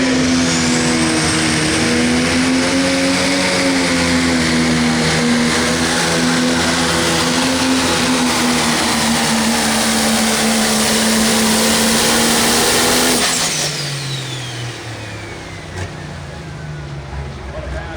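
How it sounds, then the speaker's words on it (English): A 10,000 lb pro stock tractor with a 680 cubic inch engine and 6-inch turbocharger roars loud and sustained through a pull in Monticello, Iowa, holding a steady high whine before cutting off and fading. "make some steam inside the 680 cubic inch engine with a 6-inch turbocharger coming your way"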